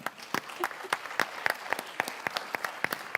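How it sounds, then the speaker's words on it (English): Conference audience applauds at a wine tourism event, a sparse patter of individual hand claps with distinct irregular hits, moderately close and fairly light rather than a dense ovation. "A big round of applause to this."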